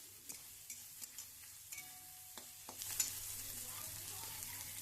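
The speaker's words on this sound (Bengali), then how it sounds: "এবার আদা রসুন দেওয়ার পর আমি এটাকে আরও 30 সেকেন্ড বা 1 মিনিটের মতো একটু ভেজে নেব" Ginger, garlic, onion and spices frying and stirred in a pan for chicken kosha, with soft scraping taps at first and then a steady sizzle that swells and holds, quiet and close.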